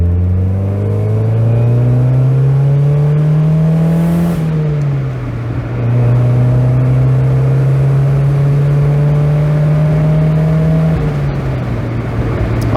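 NA Mazda Miata with a manual gearbox accelerating, a loud close engine drone that rises in pitch, dips at a gear change, then climbs again before another shift.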